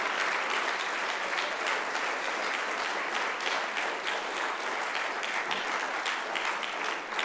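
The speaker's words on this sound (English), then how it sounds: "just gonna ask everyone to stand and give him a round of applause" A standing audience at a Black Lives Matter Day community awards session claps steadily for several seconds, a dense, even wash of applause with a few faint voices underneath.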